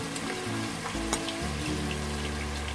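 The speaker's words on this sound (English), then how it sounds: "Just want to spice my oil." Spices frying in oil for a vegetable stew, a steady close sizzle with faint stirring scrapes and a brief clink, continuous throughout with no talking.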